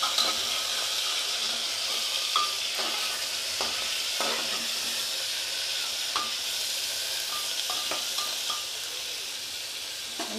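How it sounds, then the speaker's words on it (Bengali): Chicken being stirred and fried in a pressure cooker for a simple chicken stew, with a steady close sizzle and scattered scraping clicks of the spoon against the pot throughout. "প্রেসার কুকারের মধ্যেই আমি এটাকে নেড়ে চেড়ে একটু ভেজে নেব।"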